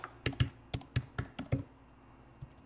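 Computer keyboard typing in a burst of about eight quick, uneven key presses over roughly a second and a half, fairly close, then a pause and one last faint tap, with no talking.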